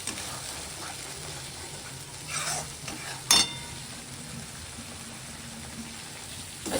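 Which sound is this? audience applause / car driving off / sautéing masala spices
sautéing masala spices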